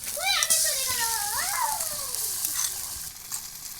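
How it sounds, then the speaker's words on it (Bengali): Onion and garlic paste dropped into hot oil and stirred in the pan, a bright sizzle with scraping stirs while a high-pitched voice chirps briefly in the background. "এবার আমি পেঁয়াজ আর রসুন বাটাটা দিয়ে দেবো।"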